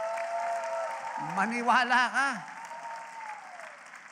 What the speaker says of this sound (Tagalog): Lakasan nyo yung palakpak nyo.